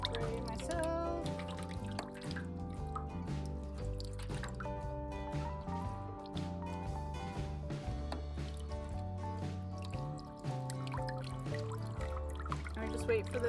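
Water trickles and drips steadily into a garden dipping basin filled from a rain barrel, with a continuous gentle pouring sound and music playing throughout.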